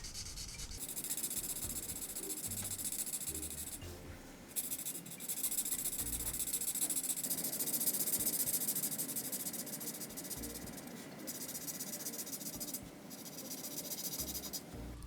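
A pencil or marker colours in a picture with close, continuous scratchy rubbing strokes that come in long rhythmic stretches, separated by brief pauses.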